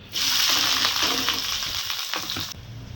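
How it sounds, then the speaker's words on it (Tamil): Onions and curry leaves fry in hot oil for a mutton fry, giving a steady, close, bright sizzle with faint stirring scrapes that fades slightly near the end. "இப்போ வந்து நம்ம ஒரு 3 கொத்து கருவேப்பிலை, அப்புறம் பொடியாக அரிஞ்ச வெங்காயம், ஒரு 2 பெரிய வெங்காயம், இது அப்படியே போட்டுக்கலாம்."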